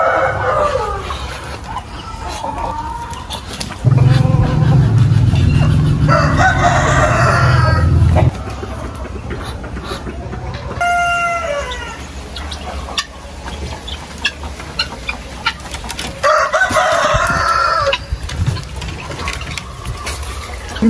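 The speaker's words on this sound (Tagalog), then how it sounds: "mag-help pa ako kay John na magpakain ng chicken" Chickens cluck and a rooster crows repeatedly nearby on a farm, with mechanical rattling and a steady hum in the background.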